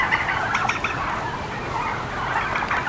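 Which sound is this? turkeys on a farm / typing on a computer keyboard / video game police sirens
turkeys on a farm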